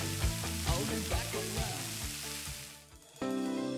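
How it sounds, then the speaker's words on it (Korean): Bulgogi sizzles in a hot pan with a steady hiss and light stirring clatter, easing off near the end before a sudden louder burst of sizzle. "불고기 들어갑니다."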